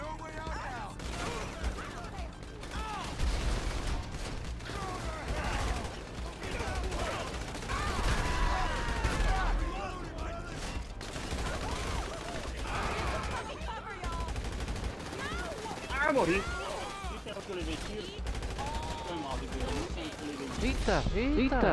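Gunfire in the video game GTA V Online, a dense sustained fusillade of shots running throughout, with game music and effects and a voice talking over it.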